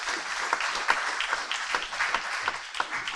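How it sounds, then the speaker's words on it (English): Moderate applause from a conference audience at a fintech event for a speaker leaving the stage, the individual claps audible as a fairly sparse, uneven patter rather than a dense roar. "Everyone, big round of applause for Olivia."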